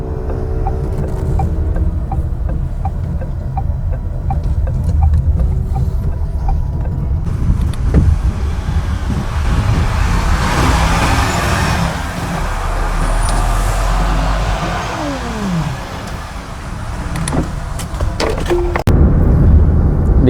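An electric car rolls through the Ciperna toll gate onto the toll road toward Jakarta, its steady hum and road noise continuous and close inside the cabin, with a few brief mechanical clicks and whirs.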